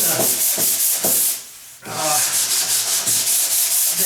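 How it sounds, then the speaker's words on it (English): A paddle sander works over a wooden door near the hinge locations, a loud close rasping drone pulsing in quick rhythmic strokes, pausing briefly midway before the steady abrasive grind resumes; no voices. "Yeah, I could hit it with the paddle sander"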